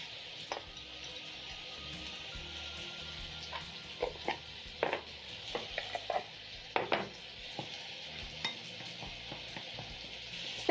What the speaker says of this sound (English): Stir in the salt and black pepper into my flour